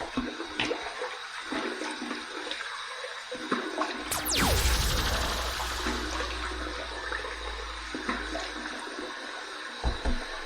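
Water splashes and runs while a face is wetted before shaving, a burst of rushing water in the middle that fades away, with handling noises around it and no talk.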